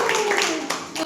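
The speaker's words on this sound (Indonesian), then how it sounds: "Tepuk tangan buat kita semua." A crowd at an Indonesian company gathering and fast-breaking event claps briefly in a loud, blurred burst that sits under an ongoing voice.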